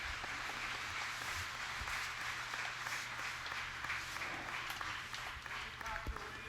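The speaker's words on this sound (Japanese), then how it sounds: "出てこられましたら拍手でお迎えください。" Audience applause greeting a pastor at a church service in Hawaii, a steady, dense wash of clapping that runs the whole time with faint background voices.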